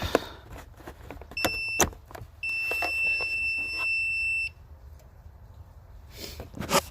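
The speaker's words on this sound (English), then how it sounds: "so as you guys heard that beep" A steady electronic beep from an EverStart jump starter as it is hooked up to a car battery, one sustained tone of about two seconds after a brief chirp, over quiet background with clicks.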